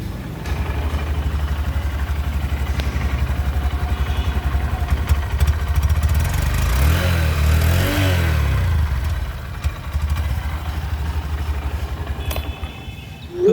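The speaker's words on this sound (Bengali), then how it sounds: "তোমাদেরকে আমি এই বাইকের একবার এক্সস্ট সাউন্ড শুনিয়ে দিই" A Honda Shine 125 motorcycle, 2024 model, idles with a steady, muffled exhaust thrum, then revs up briefly near the middle and settles back to a quiet idle, recorded close by.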